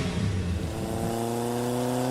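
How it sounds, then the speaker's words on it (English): A cartoon race car revs in a playful sound effect: a steady, loud engine drone whose pitch shifts partway through and then holds, running alone without speech. "It was a cool cat race car revving for a fast,"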